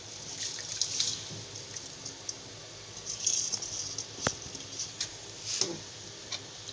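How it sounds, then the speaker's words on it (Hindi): Water in a cooking pot for chana pulao starts to heat toward a boil, giving soft bubbling and ticking with occasional small pops, faint and close. "पानी में देखिए हल्का हल्का जोश आना शुरू हो चुका है।"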